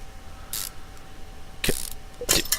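Bolts being screwed in with a ratchet in the video game Car Mechanic Simulator 2015, three short, sharp mechanical bursts spaced apart over a quiet background, close and crisp.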